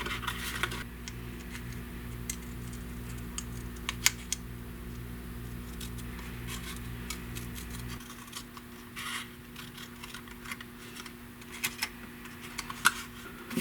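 Scissors cut decals from an Estes Big Bertha model rocket decal sheet, giving scattered light snips and clicks over a steady low electrical hum that drops away partway through. No one speaks.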